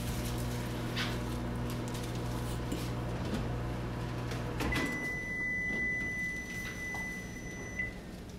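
A microwave oven runs with a steady low hum and mechanical drone in a kitchen, shifting partway through, with a few faint beeps near the end.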